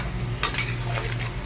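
Chilli chicken with cornflour is stirred in a large wok, a metal spatula scraping and clinking against the pan over a low steady hum, close and fairly loud.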